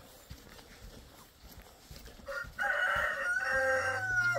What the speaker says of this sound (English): More chickens in the rain.